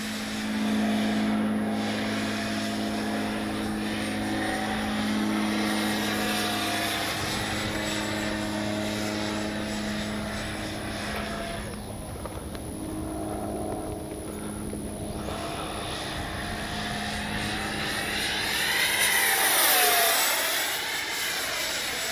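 An Arrows 64mm MiG-29 electric ducted-fan RC jet makes high-speed passes in a speed trial, its whining roar swelling and fading with Doppler sweeps and rising loud again near the end.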